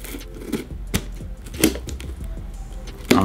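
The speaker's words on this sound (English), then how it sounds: "Trying to cut this last section of tape real quick." Packing tape being cut and pulled on an Ice Box shipping box, a run of sharp, dry clicks and crackly tears in short irregular bursts, fairly close, with no talk.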